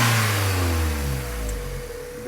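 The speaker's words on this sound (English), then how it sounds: "let's see how this intake sounds." A Mazda Miata NB engine fitted with a Racing Beat intake and dual-muffler exhaust revs up close, its tone sweeping upward and then easing back toward idle.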